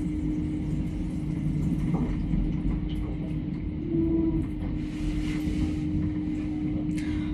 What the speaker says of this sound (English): This is a train in Thailand.